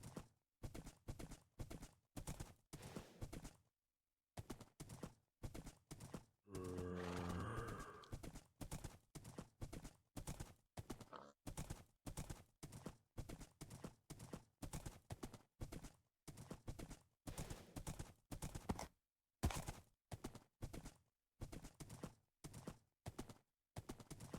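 A horse in the video game Minecraft trots with rapid, regular hoof clip-clops throughout, interrupted by a single whinny, very quiet overall.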